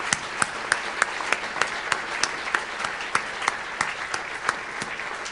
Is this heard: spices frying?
no